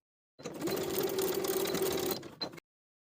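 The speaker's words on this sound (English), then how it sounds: "I'll place the short edges of the bias binding right sides together and sew them together at 3/8 of an inch" A sewing machine stitches a short seam joining the ends of bias binding. Its motor whirs in one even, close burst of about two seconds between stretches of silence, with a faint click as it stops.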